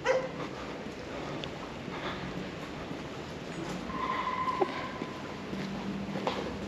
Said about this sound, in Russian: Пес какой-то сторожевой.